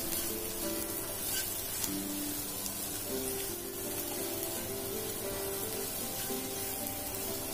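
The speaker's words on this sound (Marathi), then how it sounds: "गोडा मसाला फक्त मी चवीपुरताच घालत आहे, आणि मीठ आता व्यवस्थित परतवून घ्यायचं आपल्याला" Goda masala and salt sautéing in a pan for cluster bean (gavar) curry, a steady low sizzle with a faint continuous hiss, close and quiet, with no talking.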